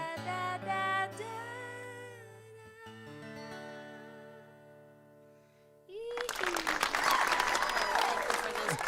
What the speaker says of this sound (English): Thank you for those virtual claps.